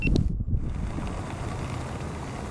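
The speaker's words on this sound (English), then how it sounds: "The wind is strong" Strong wind buffets the microphone outdoors in a steady low roar, with a brief rattle and clatter at the start and no voices.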